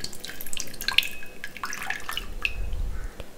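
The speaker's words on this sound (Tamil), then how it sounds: "அதை முதல்ல நம்ம கரைச்சி ஒரு குண்டால் ஊற்றிக்கலாம்." Tamarind water for a bachelor-style fish curry poured into a pot, a soft trickle of splashing liquid with a few small drips, fairly quiet and close, with no talking.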